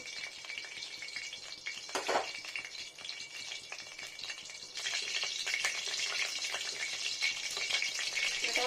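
Sugar fries in mustard oil mixed with leftover fish-frying oil, a steady close sizzle with a brief clatter near the start that grows louder and denser in the second half.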